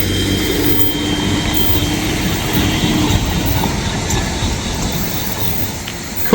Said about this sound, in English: we got a medium clear for a westbound train there